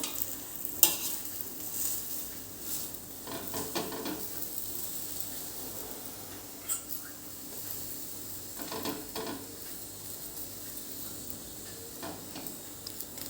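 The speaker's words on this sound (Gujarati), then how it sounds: "આપણે બંને બાજુ આવી રીતે ઘી મૂકીને શેકી લેવાનું છે" An aloo-stuffed methi paratha roasts in ghee on a pan with a soft, steady sizzle, broken now and then by faint scrapes and taps of a spatula pressing and turning it.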